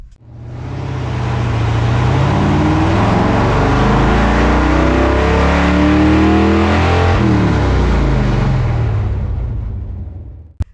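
A 454 engine fitted with a hood scoop roars through a dyno run, revving from a low rumble up to a loud, sustained full-throttle howl before dropping off, close and with no talk.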